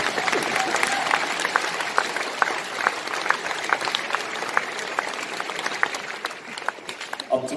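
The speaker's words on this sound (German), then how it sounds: "Also wirklich Applaus für dieses Ausnahmetalent." Concert audience applauding, dense and even clapping from a crowd that holds steady throughout and fades out right at the end.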